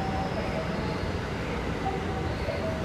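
A JR local train passes through a station in Kashi, Japan, a steady broad rumble of wheels and carriages that holds at the same level for the whole stretch, with no speech over it.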